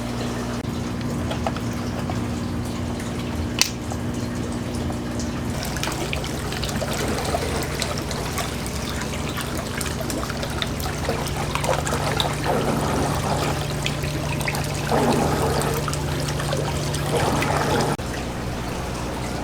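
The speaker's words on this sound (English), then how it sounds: "Let's go ahead and turn this filter back on." An indoor pond filter, just switched back on after a bulkhead repair, keeps water trickling and splashing steadily over a constant low hum, with no break for the whole stretch.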